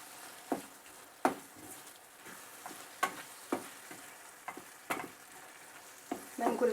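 Minced meat kofta is stirred in a hot pan with sugar and cinnamon, a soft sizzle underneath a series of distinct scraping and tapping strokes from the utensil, spaced irregularly about a second apart.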